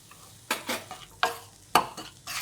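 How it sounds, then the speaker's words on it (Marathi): Fresh turmeric sautéed in ghee with chili powder and salt, a few distinct scraping stirs of a spoon in the pan over a faint sizzle, close and fairly quiet with no voices. "अशी परतून घ्यायची चांगली दोन चमचे तिखट चवीनुसार मीठ"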